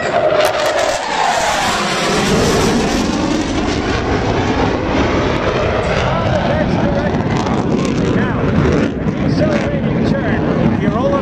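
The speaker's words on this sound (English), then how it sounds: "you bring the power on the runway and shove the power forward" At an air show, an airplane's engine roars steadily as power is pushed forward on the runway, loud and continuous with heavy wind buffeting the microphone throughout.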